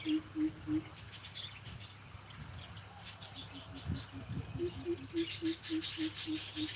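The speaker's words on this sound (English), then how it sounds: "Can you hear the birds?" Repeated short, soft bird calls in a quick even series, faint against a low outdoor background with occasional rustling.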